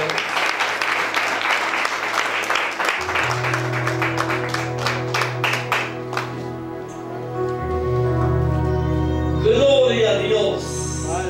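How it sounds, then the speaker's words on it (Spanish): A church congregation applauds a sister coming forward, sustained clapping from a crowd under amplified speech and background music. "fuerte los aplausos en esta oportunidad"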